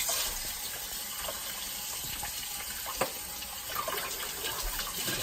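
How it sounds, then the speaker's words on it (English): Tap water runs steadily into a sink as hands are washed with soap beneath it, a constant close gush with small splashes and no voices. "Wash your hands with soap and water."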